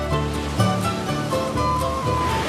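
Ocean surf on the Pacific coast, seen from hills between the coastal range and the sea, gives a steady broadband wash of breaking waves, loud and continuous with slight swells in intensity.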